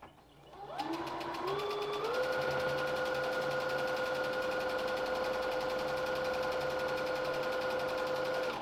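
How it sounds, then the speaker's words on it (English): A sewing machine starts up and runs steadily, stitching the ends of folded lining fabric with a fast, even motor whir that rises slightly in speed and then holds constant, close and alone. "After you have folded your lining fabric, you need to sew the ends."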